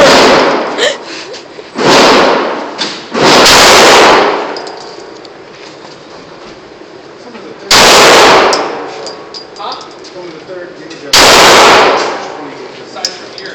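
Five loud, sharp reports from a Glock 9 mm pistol, spaced irregularly a few seconds apart, each with a brief echoing tail, with quiet talk and outdoor noise in between.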